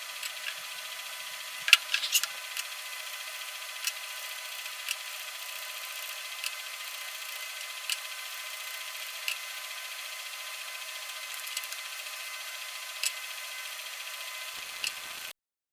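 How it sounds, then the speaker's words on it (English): Steady, close rubbing of Woody Polish being worked over a wooden board, a continuous soft hiss of cloth on wood broken by small taps and knocks. "we're using a liberal amount of woody polish to cover and help coat all surfaces"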